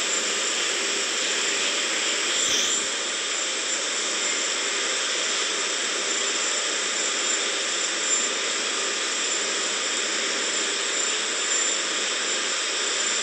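Rocket engine roaring steadily during first-stage ascent of an Astra launch, heard from an onboard camera as a continuous broadband hiss and rumble with no breaks, loud and unchanging throughout.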